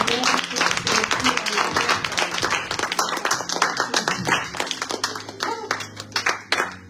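A church congregation breaks into dense, sustained applause at a prophetic service, many hands clapping close together throughout, with voices mixed in beneath the clapping.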